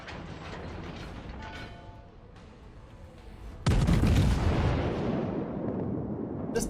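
Battleship 14-inch guns firing in a naval video game, a sudden heavy booming blast that rolls off into a long fading rumble after a stretch of quieter mechanical clatter.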